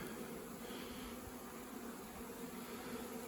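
Honeybees from a pollination hive, being boosted with a large batch of extra bees, give a steady, dense buzz that holds level throughout with no voices.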